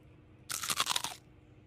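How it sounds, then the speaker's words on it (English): A single sharp crunch, as if biting into something hard hidden in soft food, lasting under a second. It is close and crisp, with no talk. "when you're eating something soft but crunch on something"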